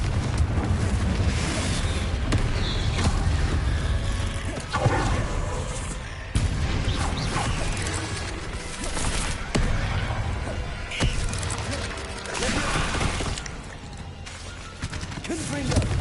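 Confringo blasting spells explode one after another in Hogwarts Legacy, a dense, loud barrage of booming bursts and crackling impacts that rarely lets up, with game music and effects layered underneath.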